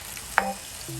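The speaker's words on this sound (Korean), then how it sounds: "밑에 살짝 누른 게 있을 수 있으니까 밑에는 잘 이렇게 좀 긁어 주셔야 돼요" A spoon scrapes the bottom of a pot while stirring spicy potato stew (gamja jjageuli) with chili flakes and added water: one short, sharp scrape and clink at close range over a soft, steady simmering sizzle, with no voices.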